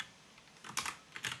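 Computer keyboard typing in a short, close burst of a few quick clustered key taps, quiet otherwise, with no voices.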